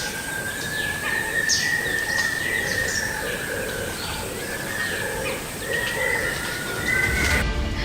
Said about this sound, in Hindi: वहां चिड़िया भी चहचहाने लगती है